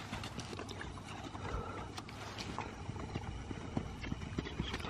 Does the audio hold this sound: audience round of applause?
no